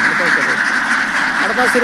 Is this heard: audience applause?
no